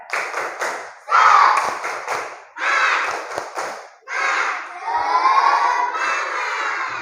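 A classroom of schoolchildren performs a rhythmic clapping chant in bursts, sharp claps mixed with voices chanting together, loud and close, in several separate phrases.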